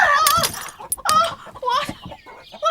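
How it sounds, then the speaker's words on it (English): A giant hen lets out a series of loud, close clucks and squawks in uneven bursts, with short gaps between the calls. "that hen. A giant hen."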